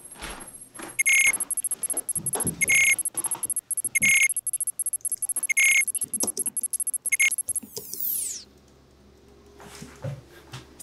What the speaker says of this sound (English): It's not a false alarm.